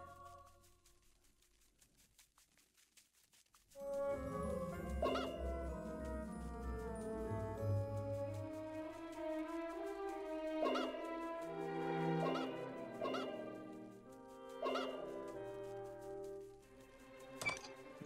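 A chicken clucks and squawks in the hidden-object puzzle game Azada Ancient Magic, a loud, pitched run of fowl calls starting after a quiet opening and repeating in bursts, with short sharp accents mixed in.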